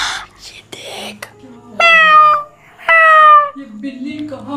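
A cat meows twice in a haunted granny house horror video game, each call a long clear drawn-out cry, interleaved with brief whispered and spoken voices.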